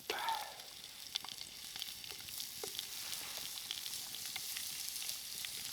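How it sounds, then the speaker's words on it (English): A pork chop sizzles in bacon grease in a hot pan over a campfire, a steady crackling hiss dotted with small pops, close and fairly quiet. "A little bit of a sizzle."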